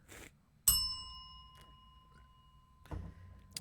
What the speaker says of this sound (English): Just hit the bell.